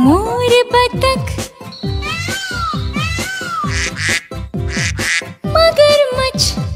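Repeated duck quacks over a bouncy musical backing, several short honks in quick succession, close and fairly loud.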